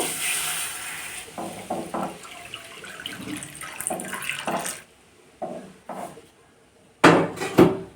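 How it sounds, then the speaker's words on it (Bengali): Milk poured from a container into a cooking pan set on the stove for making kalakand: a steady, close liquid rush that ends with a few sharp metallic clanks of the pan and utensils. "এখানে আমি কিছুটা দুধ ঢেলে দেব"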